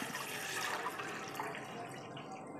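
About one litre of water pours steadily into a cooking pot on a stove, making a continuous splashing rush that is loud and close with no talk.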